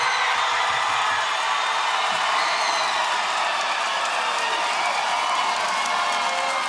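Crowd at a street dance battle semi-final cheering and whooping for a locking dancer, a dense, continuous roar of many voices with scattered applause that stays loud and steady throughout.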